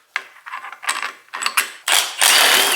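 Ratchet clicking in bursts while starting the large bolts that hold the transmission in a Mercedes CL65 AMG, close and loud, with short pauses between runs and a longer, denser burst at the end.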